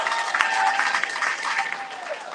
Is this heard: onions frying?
no